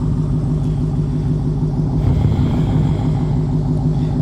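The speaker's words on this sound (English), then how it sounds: "It's on right now, so it's idling." A stock Dodge Demon idling, a steady low engine rumble throughout, close and continuous with no revving.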